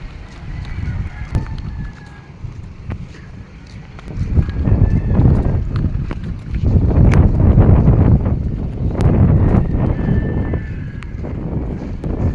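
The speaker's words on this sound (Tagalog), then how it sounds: "Mahangin siya tapos malamig pa yung araw." Steady wind buffets the microphone in low gusts that grow stronger midway, with faint outdoor background noise and no talking, on a cool morning by a harbor.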